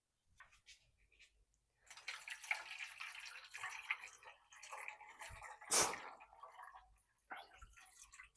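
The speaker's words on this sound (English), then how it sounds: "let's add the water now" Water is poured into a double boiler for colour dyeing work, making a soft, close, continuous splashing trickle with a brief louder splash near the end.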